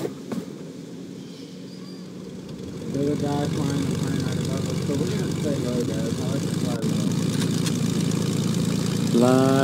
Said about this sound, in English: There's a guy flying the plane right above us, so we're gonna stay low, guys.